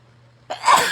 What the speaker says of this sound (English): But I can feel the sneeze coming on.